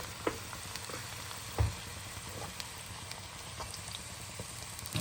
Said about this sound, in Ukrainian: Вже починає гарно шкварчити.